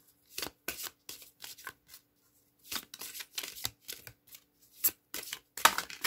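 Heavy tarot cards shuffled by hand in short, close riffling bursts with brief pauses between them, crisp and fairly quiet, with no talk.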